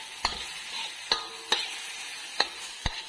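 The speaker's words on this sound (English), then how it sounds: "such as this video of me cooking." Food being stirred in a sizzling frying pan, a soft steady crackle broken by five sharp clinks of a utensil against the pan at uneven intervals, close and fairly quiet with no talking.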